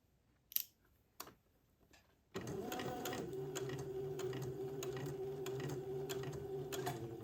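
A few light mechanical clicks, then a sewing machine starts and runs at a steady, even hum, stitching a seam on an heirloom bubble outfit for a one-year-old boy, close and continuous to the end.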